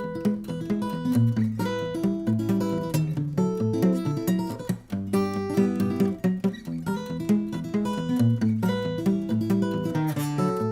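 Steel-string acoustic guitar played fingerstyle with a thumb pick, a ragtime piece: steady alternating bass notes under busy melody lines, continuous and close for the whole stretch.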